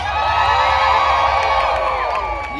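A large crowd cheers and whoops continuously and loudly on Dark Harbor's opening night at the Queen Mary, a dense mass of overlapping yells and shouts.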